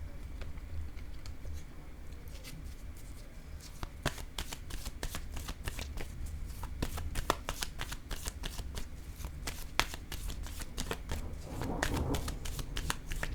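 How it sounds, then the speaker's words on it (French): Tarot cards are shuffled and laid down on a table close by: steady, rapid riffling patter with crisp flicks and slaps of cards being placed, continuous throughout with no talking. "Je dépose une carte ici et sur mensonge."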